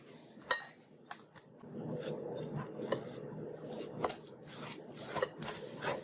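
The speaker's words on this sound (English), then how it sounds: "so I'm going to butter my bread." Knife scraping butter across bread, a series of dry rasping strokes in short bursts with occasional light clicks, close and fairly quiet, no talking.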